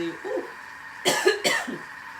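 Two sharp coughs close together, fairly near, following a brief murmur of voice, set off by chili in a pasta sauce.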